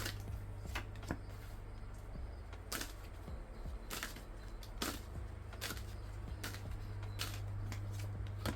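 Tarot cards shuffled in a steady run of soft, close riffling taps and flicks, with no talking.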